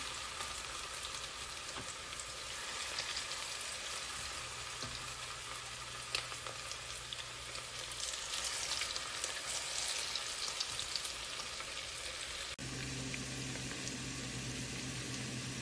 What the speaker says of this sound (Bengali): এগুলো একদম ডিপ ফ্রাই করে নিচ্ছি।